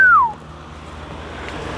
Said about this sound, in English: And then I step back and whistle